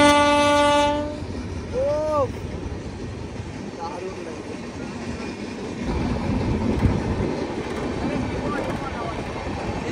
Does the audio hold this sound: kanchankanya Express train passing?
yes